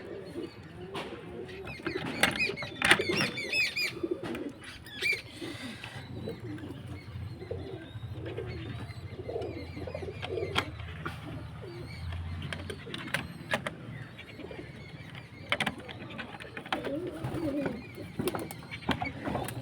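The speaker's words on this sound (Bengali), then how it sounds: "এত পায়রা আছে, দেখো" Many pigeons kept in a loft coo steadily in low, throaty rolls, several birds overlapping close by, with occasional flutters and small knocks but no talking.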